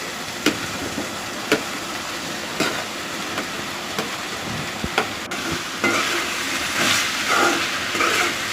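Mushrooms sauté in a pan with a steady soft sizzle and hiss, broken by periodic clacks of stirring every second or so, and the frying grows slightly louder toward the end.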